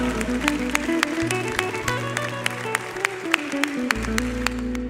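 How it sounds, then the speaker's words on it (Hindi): A worship congregation at a live Hindi choir service claps along in rhythm, sharp regular handclaps over sustained music and singing, loud and close throughout. "तालियों के साथ"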